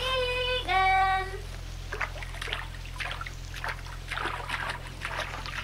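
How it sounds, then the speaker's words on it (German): A short chime gives way to soft, steady trickling and splashing water in a pond, faint and continuous. "Da plätschert doch was im Weiher."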